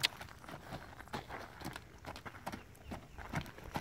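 A horse trotting in a round pen, its hooves thudding in a quick, even two-beat rhythm on soft ground, close by, with no talking during the steps.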